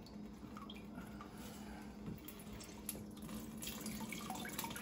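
Elderberry syrup dripping slowly through a cheesecloth strainer into a container, with soft, scattered liquid drips and trickles over a steady low background hum, faint and close, with no talking.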